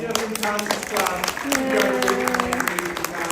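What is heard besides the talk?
class applauding themselves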